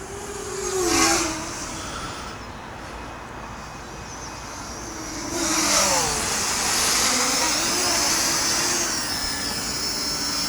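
An XK X251 ready-to-fly quadcopter drone whines overhead, its motor pitch swooping up and down as it maneuvers, louder passes rising and fading at moderate distance.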